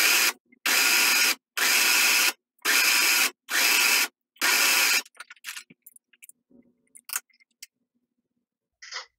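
Sewing machine stitching a folded yellow fabric strip, 3 cm wide, onto a safari hooded towel: six loud, even bursts of motor whirring separated by short pauses, then quiet handling and fabric rustles.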